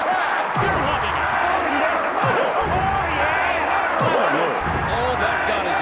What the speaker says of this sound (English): What's up with this crowd? You're loving it.